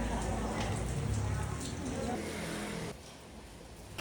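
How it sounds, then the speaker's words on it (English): Steady rain drumming while a car drives along on a rainy road above Yilan, Taiwan, with engine and road rumble underneath; the rain noise drops noticeably near the end, and a voice may be faintly present. "Above Yilan, it starts to rain and it won't stop until days later."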